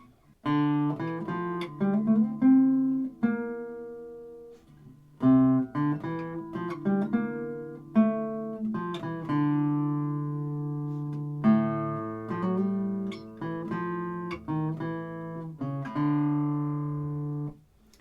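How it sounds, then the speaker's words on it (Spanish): Solo classical guitar plays a slow piece, plucked notes in the low register carrying the tune beneath lighter upper notes, with brief pauses between phrases. "vuelve la melodía principal al bajo"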